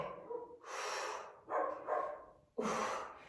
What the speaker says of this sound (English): That's my puppy barking outside.